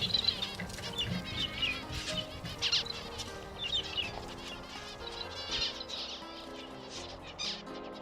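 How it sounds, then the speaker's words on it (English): A lone male zebra finch practises its song, giving a run of short, high chirps and buzzy notes, fairly close and repeated over a rustling outdoor background. "A lonely male finch practising his song."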